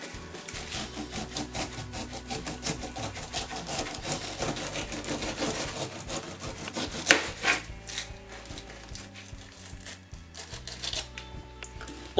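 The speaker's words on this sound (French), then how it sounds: "ce qui va nous permettre de retirer 250 g de pulpe d'ananas. Donc je commence par l'éplucher bien sûr." A knife peels the tough skin off a whole pineapple, giving close, repeated scraping and rasping cuts in an irregular rhythm, with soft knocks of fruit and blade against a board, alone without talk.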